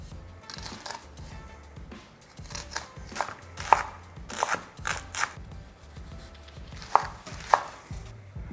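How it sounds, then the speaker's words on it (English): A knife chops onions on a cutting board, the blade knocking in uneven bursts of quick strokes that turn into sharper, louder cuts partway through. It is close by and heard on its own, with no talking. "chop up our onions"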